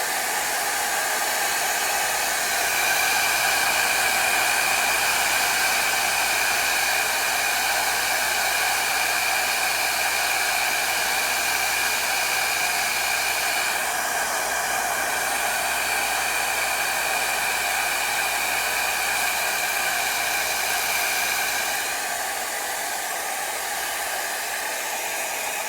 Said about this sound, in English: I'm gonna blow dry it